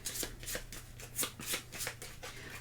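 A deck of cards is shuffled by hand during a solo tabletop game of Star Wars The Clone Wars, with about eight quick, crisp riffling bursts in an uneven rhythm, close and fairly quiet.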